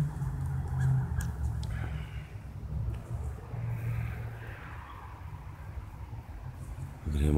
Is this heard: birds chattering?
yes